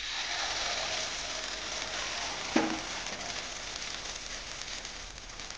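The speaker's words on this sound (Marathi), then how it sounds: "तेल छान गरम झालेलं आहे. पण याच्यामध्ये आपले आप्पे टाकून घेणार आहोत." Rice and mixed dal appe batter frying in hot oil in an appe pan, a steady soft sizzle and crackle heard close and fairly quiet, with a single light clink partway through.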